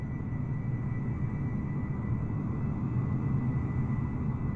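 A constant deep drone of airliner engines in Microsoft Flight Simulator 2020 at Ayers Rock, with a thin tonal whine above the low roar, holding level without any speech.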